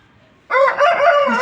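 An Aseel rooster crows loudly and close by, one strained, drawn-out call after a moment of near silence.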